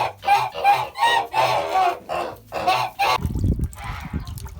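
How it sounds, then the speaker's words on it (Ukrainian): Several geese honk loudly and repeatedly up close in a rapid, uneven series of calls, followed by a brief rustle of movement. "Гуси кричать за нею, кличуть"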